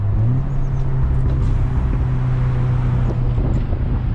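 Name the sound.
car exhaust burble tune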